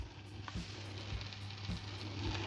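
An egg sizzles in a frying pan at a low, steady crackle with a constant hum underneath, no voices over it.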